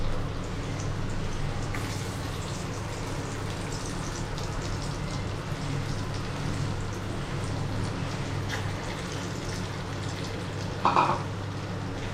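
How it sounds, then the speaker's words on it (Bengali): Soybean pakoras fry in hot oil with a soft, steady sizzle and crackle, quiet and continuous, with a faint clink near the end and no one talking. "খুব হালকা হাতে আস্তে আস্তে করে পাঁকুড়াগুলো ভেজে নেবেন"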